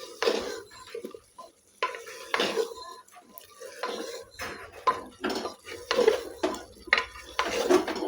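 Drumsticks stirred in a pan while cooking for lentil dal, repeated clanking and scraping of a metal spoon against the pot in an uneven rhythm, close and fairly clear, with faint sizzling beneath.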